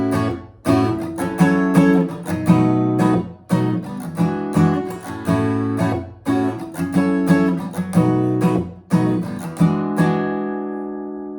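Slow guitar playing of a song's chord progression, strummed and picked chords ringing with open strings, close and moderately loud, played alone without talk and ending on a sustained chord.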